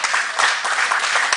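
A church congregation claps together in worship, a loud, dense burst of applause close by that holds steady for a moment with a few sharper individual claps poking through.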